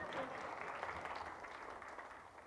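A conference audience applauding, a steady wash of clapping that starts full and gradually thins out over a couple of seconds.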